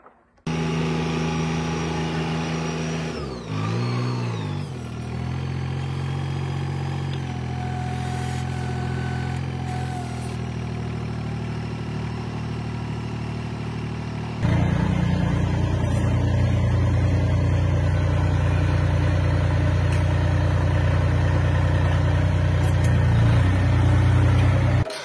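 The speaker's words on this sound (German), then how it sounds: "dann gehen wir es holen mit dem Traktor" A tractor engine running on an apple farm during the 2022 harvest, a steady close engine drone that shifts pitch early, then grows louder and rougher as it drives, with no voices.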